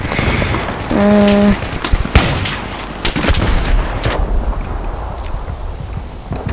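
Gunfire in Battlefield 3 rings out as a rapid series of loud, sharp shots and booms, some close and some more distant, with a brief electronic tone partway through.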